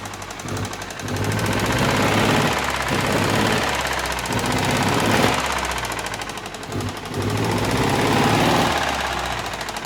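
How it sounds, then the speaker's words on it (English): A long-idle old vehicle engine, unused for about 20 years and running tappety, revs loudly and continuously with a rough, knocking clatter that rises and falls in several surges. "We'll give her a bit of a rev, see how she reacts."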